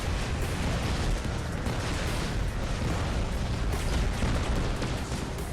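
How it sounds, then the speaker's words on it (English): Robot weapons firing in the War Robots game, a dense, continuous barrage of loud overlapping blasts and booms with no pauses, no talking. "we're just shooting from far away into his back"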